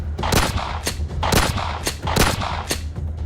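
Gunfire exchanged during an army search operation near the Line of Control in Akhnoor, rapid bursts of loud shots in quick succession, sharp cracks repeating roughly every half second over a constant rumble.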